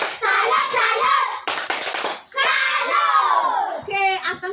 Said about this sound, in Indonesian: Kita tepuk salut dulu untuk Atan